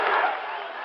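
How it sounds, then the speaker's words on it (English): A Fenway Park crowd at the 1975 World Series roars on its feet on an overcast, raw day, a brief loud burst of cheering that fades slightly. "Crowd on its feet here at Fenway"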